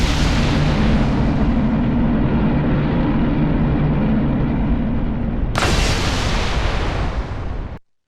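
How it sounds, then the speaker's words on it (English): The main cannon of a Halo ship fires in the Arma Reforger video game, a loud, sustained booming roar that holds steady for several seconds. A second sharp blast hits near the end before the sound cuts off abruptly. "you can actually use the main cannon, and it does have the iconic sound effects that you use when you shoot"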